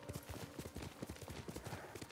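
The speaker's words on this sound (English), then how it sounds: "Press X to make my horse giddy up or jump." Horse hooves galloping in Ghost of Tsushima, a steady rapid clip-clop rhythm at moderate distance under a wash of game ambience, fairly faint throughout.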